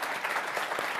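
A steady burst of clapping fills the moment, dense and even applause from a group, with no voices over it.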